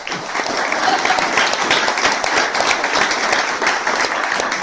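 An audience at the Vintage Flying Museum applauds to welcome a guest, dense steady clapping filling the room and continuing throughout without letup.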